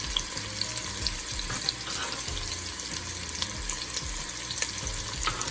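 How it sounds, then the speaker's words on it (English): Scallion, ginger and garlic fry in a pot for Caribbean curry crab, giving a dense, steady sizzle and crackle with small pops throughout, close and continuous, with no voices. "I'm gonna add my ginger and my garlic to the pot."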